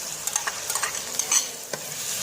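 Masala with yogurt, kalonji and tamarind sizzles softly in a pan while a spoon stirs it with light scraping taps, a steady close frying hiss under no talk.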